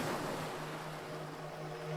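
Ocean waves wash in a steady, full roar of surf that swells gently and fades, with no voices.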